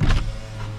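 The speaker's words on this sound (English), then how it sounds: "Automatic windows." Power window motor of a 2024 Toyota Camry Hybrid SE Nightshade, a short loud electric whir heard from inside the car, fading within a second.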